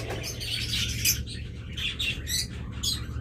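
Red-eye lutino pet birds calling, several close, bright chirps and squawks in irregular bursts over a low steady hum, with no talk.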